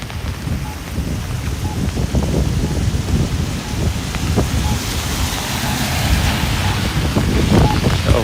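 Constant roaring wind buffeting the microphone outdoors while walking past city cross streets in the rain, loud and gusty throughout, with rumbling low-end noise.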